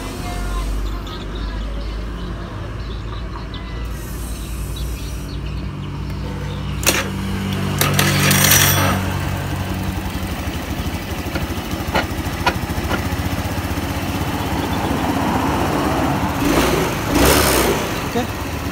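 A Honda Beat FI motorcycle engine idles and revs up a couple of times, running steadily close by, with people talking intermittently over it in Indonesian.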